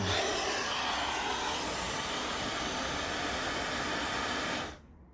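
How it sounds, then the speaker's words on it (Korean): A hair dryer blows loudly on its strong setting with a steady, broad rushing hiss, then cuts off abruptly near the end. "환부의 아픈 부위나 그 주변을 드라이기 센 바람으로 해가지고 갖다 대주면"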